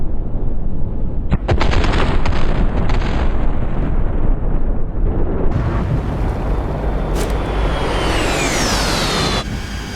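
Aircraft gun fire in the DCS flight simulator during a 2009 Afghanistan Helmand operation reenactment: loud, dense rattling bursts that run almost continuously, with a rising whine toward the end.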